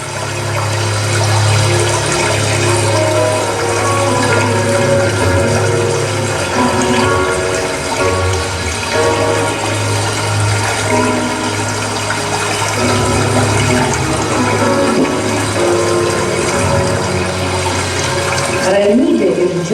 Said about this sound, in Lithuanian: pasigirdo vandens šniokštimas